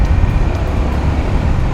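A Honda ADV350 scooter with its stock exhaust rides along, giving a muffled, dull, continuous low engine drone mixed with loud broadband road and wind rumble.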